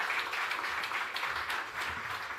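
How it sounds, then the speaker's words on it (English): Audience applause fills the hall at a tech development center launch event in Kenya, a sustained, moderately loud wash of many hands clapping with no talk over it. "A warm round of applause for him."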